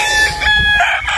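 Chickens on a farm cluck and squawk close by, loud, short overlapping calls with a rooster-like drawn-out cry, with no talking.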